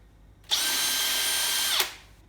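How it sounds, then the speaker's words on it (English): A power drill with a 3mm bit spins up sharply and bores into a black plastic end cover for about a second with a steady high whir, then stops abruptly. No one talks. "Drill those out with a 3mm drill bit."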